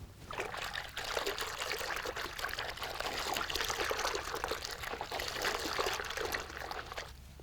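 Warm water poured into a basin of laundry detergent to wash raw sheep fleece, a steady close trickling pour that runs continuously with no talk.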